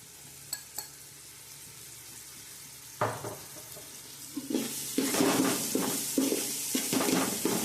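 Melon seeds and sesame seeds hitting a hot pan for Gujarati undhiyu, quiet at first, then a loud burst of sizzling and crackling from about three seconds on, with repeated bursts of stirring and scraping.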